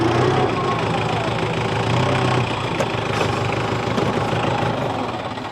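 A tractor engine idles steadily nearby on a farm field during a bale-hauling job, a low continuous rumble with light knocking. It holds even throughout, then eases slightly at the end.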